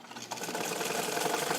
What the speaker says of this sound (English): I'm sewing a little faster here.